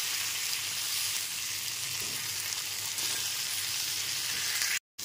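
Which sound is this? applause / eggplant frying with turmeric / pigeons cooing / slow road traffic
eggplant frying with turmeric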